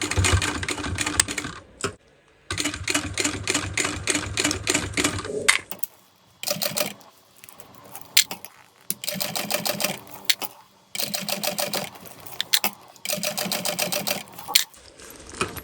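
Sewing machine stitching binding onto a crossbody bag, loud close rhythmic needle clatter in bursts of varying length with brief stops and quieter handling between them.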